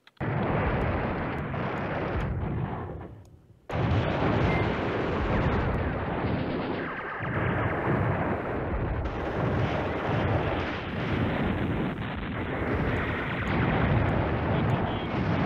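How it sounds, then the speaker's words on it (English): Airstrike explosions from the Command Ops 2 war game thunder almost nonstop, with dense booms and gunfire-like bursts and a brief gap near the start, while a voice talks faintly underneath. "Okay, we've got an airstrike. I want this airstrike."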